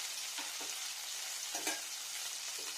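Crushed garlic fries in a pan for egg masala, a soft, steady sizzle with faint stirring scrapes and no voices.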